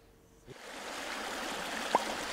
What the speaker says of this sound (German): hier kommt die erste Wiener Hochquellenwasserleitung herein